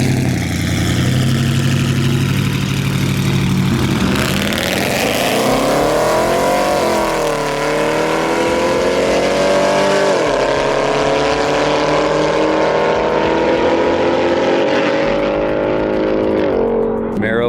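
A Dodge Charger 392 Scat Pack dig races a cammed Camaro SS: loud, sustained V8 engine roar rises through the gears as the cars accelerate hard from a roll, with voices talking over the engine noise throughout.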